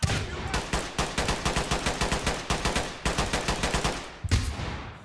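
Rapid gunfire in the tactical shooter Ready or Not rattles off in fast automatic bursts with short gaps between them, loud and close, ending in a heavier final shot.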